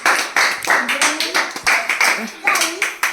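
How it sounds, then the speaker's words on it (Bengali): An audience claps in bursts for a contestant stepping out in a new outfit during a game challenge, with voices talking over the applause. "একটা জোরসে হাততালি"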